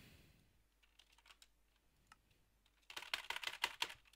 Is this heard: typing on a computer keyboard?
yes